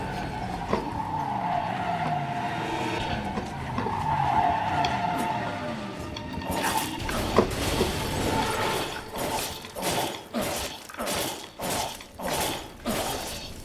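A car skids in the video game Resident Evil 7, with a long screeching tire squeal followed by rough scraping and a series of rhythmic, thudding crunches as the vehicle slides and bumps along.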